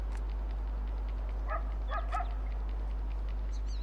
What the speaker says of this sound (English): Shoot that dog.